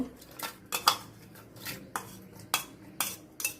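Vegetables go into a pressure cooker in a home kitchen: a series of sharp metallic clinks and clatters of pieces and utensils against the pot, spaced irregularly over a quiet background.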